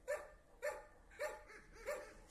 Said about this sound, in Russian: И Зара моя бесится, потому что по улице бегают собачки